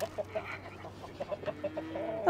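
Farm chickens cluck at feeding time in a series of short, moderately close clucks over a low background hum.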